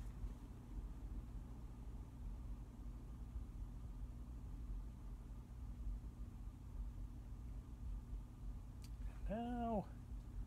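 A vintage Emerson heat fan, known as the Blenderfan, runs at medium speed with a steady, close motor hum and whir. A short voiced sound rises near the end.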